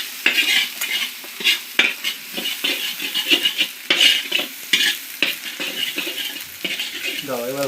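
Green chillies fry in a pan for egg curry, a sizzling hiss broken by repeated scraping and clinking of a spatula against the pan in an irregular rhythm, close and fairly loud, with faint voices now and then.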